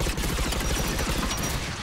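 A grenade blast amid rapid gunfire in the video game Mass Effect 3, a dense, loud, continuous barrage of shots filling the whole moment.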